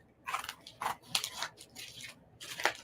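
Scissors snipping through wrapping paper on a present, several crisp crunchy cuts in uneven bursts, close and fairly loud, with rustling paper between them.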